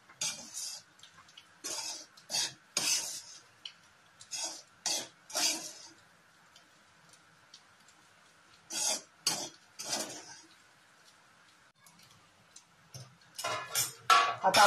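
A spoon scrapes and taps a pan while a gram flour (besan) mixture is stirred and sautéed for phagond, coming as irregular close clinks and scrapes with quiet gaps between.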